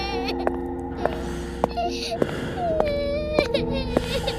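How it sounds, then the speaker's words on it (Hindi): Eerie crying plays as a sound effect in a Hindi horror story set at a haunted railway station, thin whimpering wails over a dark droning background with sharp tonal stings. "उसी समय कहीं से रोने की आवाज आने लगी।"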